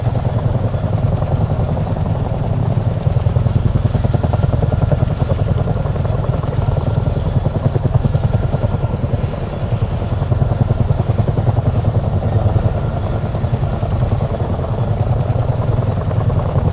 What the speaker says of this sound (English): That video you see of the helicopters flying by, flying straight up through here just like this.